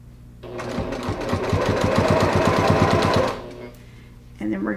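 A sewing machine runs through quilt binding in a short, rapid burst of even stitching lasting a few seconds, close and fairly loud, followed by quiet and a voice speaking afterward.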